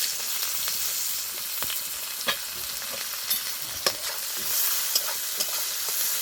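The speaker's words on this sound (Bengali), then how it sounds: "পেঁয়াজগুলো একটু ভাজা ভাজা করে নেব।" Onions frying in oil with sugar and kalo jeera, for a Bengali tengra fish dish, give a constant close sizzle broken by repeated sharp spatula scrapes and clacks against the pan, with no voices.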